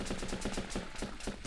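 Rapid rifle fire from the video game Running With Rifles rattles out in a steady burst of about eight evenly spaced shots, loud and close with no talk over it.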